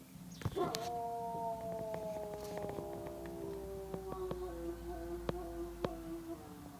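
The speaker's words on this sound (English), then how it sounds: "Did you hear that? That's my neighbor's dog." A dog howls in long, wavering drawn-out notes, rising and sliding, with a few sharp clicks and faint background rumble.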